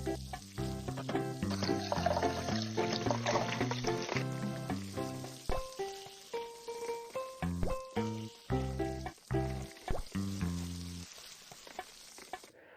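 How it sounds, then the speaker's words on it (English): Food sizzling and frying on a cooking station in the Papa Louie flash game, a bright continuous crackle over a light, plinking game tune, fading as the melody carries on alone. "The sounds you hear of your food cooking can also be kind of relaxing"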